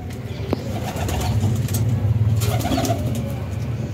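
Pigeons in a loft coo steadily and close by, producing a low throaty rolling sound with a brief flutter of wings near the start.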